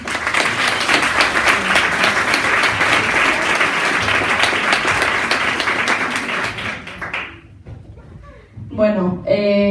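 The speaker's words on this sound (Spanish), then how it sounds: "Un fuerte aplauso." Loud, dense applause from an audience at a panel discussion on gender, sustained for about seven seconds before dying away, then a voice begins speaking.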